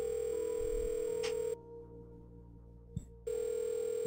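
A phone number being dialed in a video game: sustained tones with short beeps and a click, stopping briefly in the middle before the tone resumes, heard close and clear.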